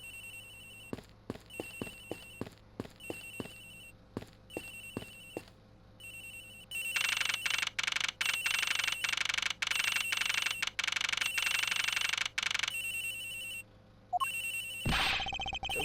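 A mobile phone rings in the Ace Attorney Investigations video game, starting as a series of short repeated electronic chirps and then swelling into a louder, continuous trilling ring that carries on for several seconds before a sharp cut.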